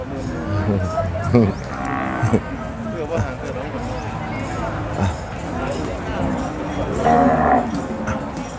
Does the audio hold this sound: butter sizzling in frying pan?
no